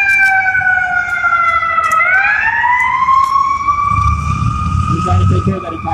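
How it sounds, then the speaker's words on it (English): An ambulance siren wails loudly and steadily as the vehicle passes close by, its pitch sliding downward midway through, with low road rumble building near the end and someone speaking over it. "We've got an ambulance coming by."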